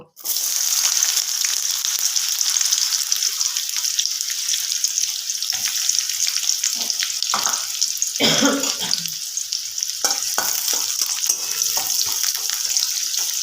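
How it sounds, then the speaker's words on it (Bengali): Continuous bright sizzling of chopped onions frying in hot oil, with occasional louder crackles and pan clatter partway through. "তেলটা গরম হয়ে গেছে যেটুকু পেঁয়াজ কুচি অবশিষ্ট ছিল দিয়ে দেব"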